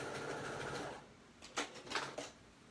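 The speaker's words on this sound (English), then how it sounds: "I'm just simply going to stitch it right on the line, just to baste it in" A sewing machine basting on the line with purple thread at regular stitch length while making a snap bag; it runs steadily for about a second, then stops, followed by a few brief, close rustling clicks.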